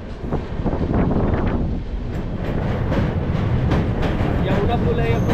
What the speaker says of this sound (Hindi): ये देखिए अपना मेट्रो